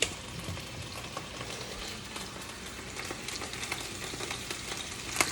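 Ingredients for a goat stew sauté in hot oil in a home kitchen, a steady dense sizzle and crackle with scattered sharper pops, close and continuous, no talking.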